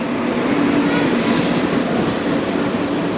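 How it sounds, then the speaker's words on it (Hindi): The Hate Bazare Express rolls into Sealdah station an hour late, with a steady rumble of train wheels and a faint squeal filling a busy platform, continuous and close. "अपने समय से 1 घंटे की देरी से सियालदा के खड़ी हो रही है हाटे बाजारे एक्सप्रेस"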